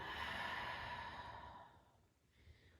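A big, slow exhale during a stretching exercise, loud and airy at first and fading over about two seconds into quiet, close to the microphone with no talk.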